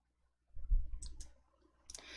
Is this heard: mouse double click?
yes